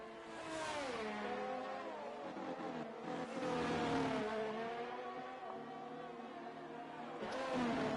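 A racing car in a sim racing game on a Hungary circuit, running medium tyres, rounds the final corner at the end of a lap, its engine pitch sweeping up and down steadily and loud throughout.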